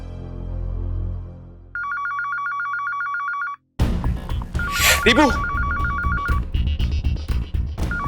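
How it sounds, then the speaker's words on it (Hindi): A landline telephone rings in repeated electronic trills, first alone, then continuing under a burst of noise and a voice speaking nearby. "एक बार लैंडलाइन पे कॉल करके देखती हूँ।"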